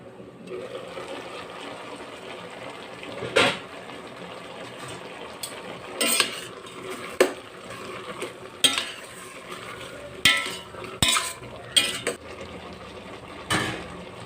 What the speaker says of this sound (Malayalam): ചക്ക ഉപ്പേരി തിളച്ചിട്ടുണ്ട് തോന്നുന്നു. നമുക്കൊന്ന് ഇളക്കി കൊടുത്ത് നോക്കാം.